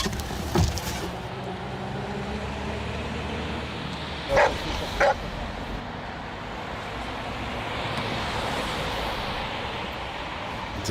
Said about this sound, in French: Il y a le chien des stupes qui va venir.